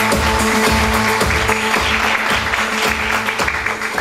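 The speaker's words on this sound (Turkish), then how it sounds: "Alkışlar güçlü olsun" Continuous applause from a crowd, dense and steady throughout, with a low rhythmic background beat underneath.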